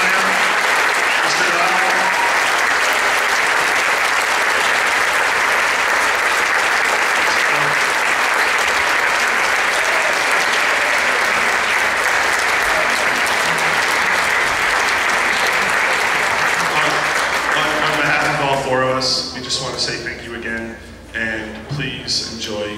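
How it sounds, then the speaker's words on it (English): An audience gives a student band at a school concert a long, loud, sustained round of applause that fades into scattered claps and chatter near the end. "So can we please give them another just huge round of applause?"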